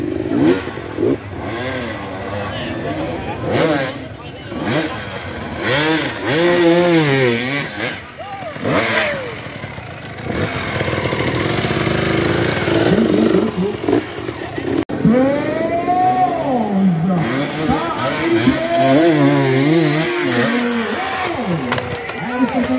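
Off-road dirt bikes, a KTM 350 among them, rev hard on a trail hill-climb, engines rising and falling in repeated loud bursts that nearly drown out the voices of people talking and shouting nearby.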